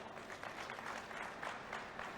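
Applause from a large crowd at a chief minister's public rally in Sidhi, Madhya Pradesh, a steady, fairly faint wash of many hands clapping at a distance with no voices over it.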